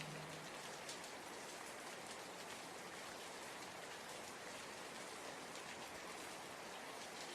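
Steady rain falls without a break, a dense even hiss of drops on surfaces, quiet and continuous throughout with no voices.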